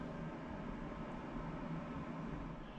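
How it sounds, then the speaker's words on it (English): Steady broadband air-conditioning hum running continuously in a hotel room in Wiesbaden, Germany, a constant even noise with no talk. "That's the air conditioning."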